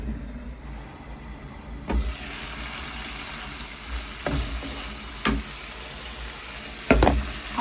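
Chicken pieces with tomato sizzling in a pan as they brown, a constant low fry broken by several louder scraping and stirring bursts, no speech.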